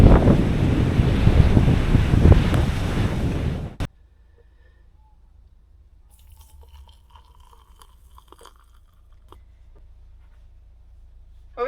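Wind by a river roars as loud, rough buffeting for the first four seconds, then cuts off abruptly, leaving only a faint low rumble and a few small scattered noises.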